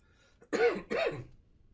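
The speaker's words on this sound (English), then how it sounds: "Apologize for the coughing" Two quick, harsh coughs close to the microphone, one right after the other, then quiet.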